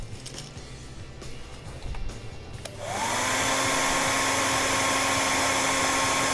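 A hair dryer switches on and roars loud and steady, blowing to dry craft paint on a stencil for a custom bluegill crankbait fishing lure. Quieter handling noises come before it starts.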